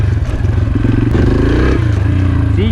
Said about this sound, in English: the engine is not revving like crazy, so you don't need much power to lift it